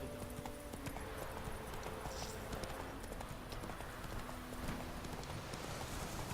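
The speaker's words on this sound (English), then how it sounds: "Roach, what are you doing, you daft horse?" Horse hooves clip-clop steadily on the ground in The Witcher 3, a continuous close trotting rhythm over a faint bed of game ambience, with no talking.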